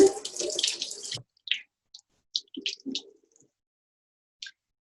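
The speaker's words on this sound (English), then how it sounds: "So this one I'm going to just rinse again." A vegetable is rinsed under a running kitchen tap, with a brief close splash of water followed by scattered light clicks and handling taps, then quiet.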